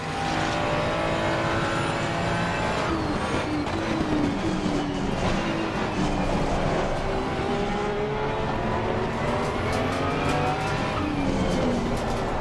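Several race cars in the Assetto Corsa Competizione racing game, driven around Suzuka with a McLaren among them, roar loudly and steadily as engines rise and fall in pitch while cars pass close alongside, with brief tire squeal.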